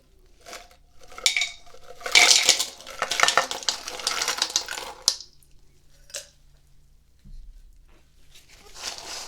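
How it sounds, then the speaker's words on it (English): Ice cubes are poured into a small bowl, a loud clattering rush of hard pieces striking each other and the bowl for a few seconds, followed by quieter scattered clinks and settling. "So we pour the ice in."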